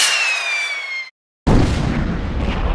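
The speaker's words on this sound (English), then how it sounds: "The force of the explosion sent Mushu and Cricky flying through the air." Rocket blast from an animated Disney Mulan story: a whistling, descending whine cuts off into a second of silence, then a loud, close explosion with a sustained broad roar.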